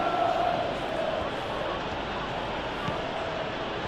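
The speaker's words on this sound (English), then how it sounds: "the crowd are reacting to that now" A stadium crowd in the PES 21 football video game keeps up a steady, swelling roar during a Sunderland versus Liverpool match, with a commentator talking over it.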